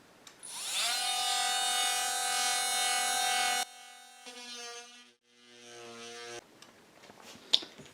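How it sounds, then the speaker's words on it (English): Handheld rotary tool trimming the ends of a homemade router base, a loud steady high-pitched whine that cuts off abruptly, then shorter spins as the motor winds down and restarts, with scraping and clicks at the end. "Some fine adjustments on the 2 ends with the rotary tool."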